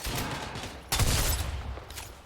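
A weapon firing in Fortnite, a fast rattling burst of shots, loud and close, swelling sharply midway and trailing off, with no talking.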